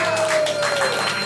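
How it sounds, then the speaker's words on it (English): Applause from a bar audience welcoming a folk singer to the stage, a dense, loud, steady clapping crowd with a faint tone running under it. "Give him a round of applause."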